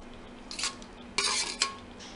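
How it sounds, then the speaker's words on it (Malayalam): A utensil stirs prawns through masala gravy in a pan, giving a few short scraping, clinking strokes spaced in an uneven rhythm over a low steady background hum. "നന്നായിട്ട് ഇളക്കി കൊടുക്കാം."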